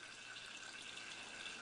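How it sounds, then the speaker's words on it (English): Thin jets of water falling from hypodermic needles make a faint, steady hissing trickle that runs on without a break. "These very small thin jets of water falling out of these hypodermic needles generates a charge"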